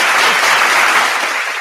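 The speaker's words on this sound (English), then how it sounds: "I'm hitting my clap button." A short burst of canned applause triggered from a clap button, dense and even clapping at full level that tapers slightly at the end, with no talk over it.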